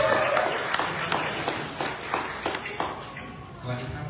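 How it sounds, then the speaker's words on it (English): Scattered audience clapping after a guest is called on stage at a Thai cultural event in New York, sharp individual claps thinning out over a few seconds, with some talk underneath. "Please give him a round of applause."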